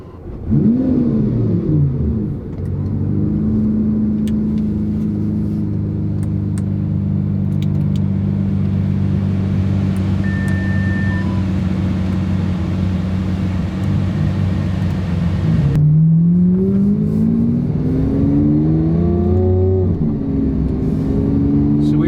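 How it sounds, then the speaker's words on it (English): Lamborghini Aventador LP700-4 with a 7-speed single-clutch transmission, its engine droning steadily and loudly while driving, with rising revs near the start and again toward the end. "Driving the Lamborghini Aventador LP700-4."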